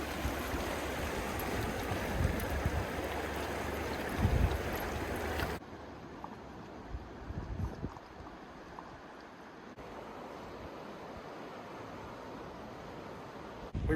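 Steady broadband rush of a creek flowing at a campsite in the San Juan Mountains, continuous and fairly close throughout, slightly quieter after the first few seconds, with no talking.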